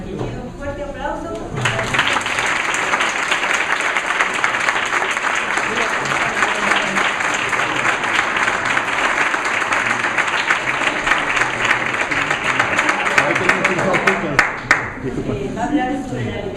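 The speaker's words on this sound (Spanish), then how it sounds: "por aquí pido un fuerte aplauso" An audience gives a speaker a strong round of applause at a talk, the sustained clapping starting after a second or two and carrying on for over twelve seconds before tapering off.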